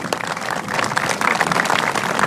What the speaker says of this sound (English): Let's have a warm round of applause for him.